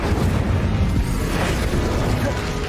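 Fire-spell blast cast in the video game Hogwarts Legacy, a loud, dense roaring burst that fills the whole moment with a rumbling, crackling explosion-like rush, sustained and steady without a clear break.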